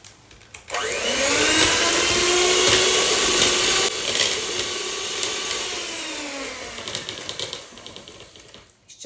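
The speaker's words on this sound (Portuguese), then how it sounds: "Eu vou começar então por bater a manteiga e quando ela estiver assim mais homogénea, eu vou adicionar então o açúcar e continuar a bater" Electric mixer beating butter for peanut tile cookies, a steady loud whirring drone that holds for a few seconds, then drops to a lower, uneven churning with small rattles until it winds down near the end.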